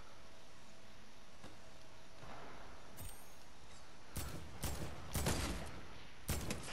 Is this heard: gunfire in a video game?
yes